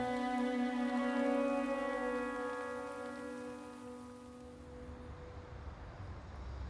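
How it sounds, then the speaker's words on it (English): Rain falls on a surface as a steady, soft broadband hiss, with sustained tonal hum layered over it for the first few seconds before it fades. "我会选择放一段雨声"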